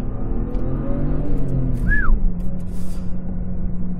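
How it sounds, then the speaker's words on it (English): A BMW 335i with a twin-turbo inline six runs with a steady, loud engine drone, pitch rising then settling through a rev, heard up close with no talking. "You hear engine. I hope you can hear that, because it's a great sound."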